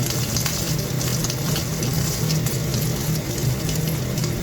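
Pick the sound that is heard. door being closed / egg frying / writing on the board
egg frying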